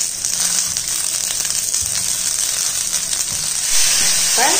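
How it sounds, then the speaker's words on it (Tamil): Tomatoes, small onions and ginger sauté in a pan, giving a loud, constant sizzle and hiss close up, with occasional stirring scrapes and no talk. "தக்காளி நல்லா வதக்கிக்கிடுவோம்."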